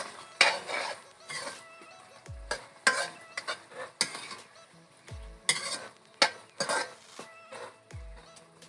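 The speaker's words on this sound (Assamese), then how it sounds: "এইখিনি ভালদৰে লৰাই ল'ম।" Spoon stirring chicken curry with garam masala in a pot, village-style chicken gravy: repeated scraping and clinking strokes in uneven bursts over a faint sizzle, close and fairly quiet, no talk.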